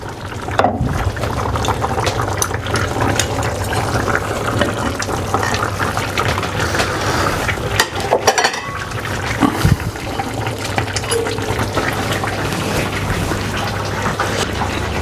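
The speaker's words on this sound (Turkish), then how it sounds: "Şimdi suyunu süzüyoruz." Cooking water being drained off a pot of meat-stuffed vine leaves (sarma), a continuous close pouring and trickling of liquid that carries on steadily with a few clinks of the pot.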